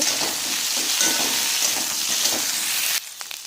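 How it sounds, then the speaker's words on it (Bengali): Ginger-garlic paste fries with potatoes in a hot pan for a cauliflower and fish curry, sizzling loudly and continuously while a spatula stirs through it, then the sizzle drops to a quieter hiss. "আমি এক চামচ আদা রসুন বাটা দিলাম আবারও ভালো করে নাড়ব"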